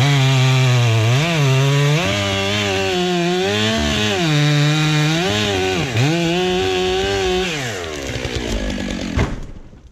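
A chainsaw finishes the felling cut through a tree, its engine loud and close, revving up and down in uneven surges before cutting off near the end.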